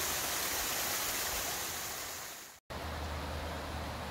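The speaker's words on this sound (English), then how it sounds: "You see all that water coming down." Rain-swollen stream rushing steadily after heavy rain in the southeastern US, a loud continuous broadband roar of water with a momentary cut partway through, no voices.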